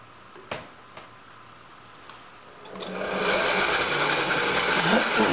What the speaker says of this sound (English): Oh, let's do a little center drill first.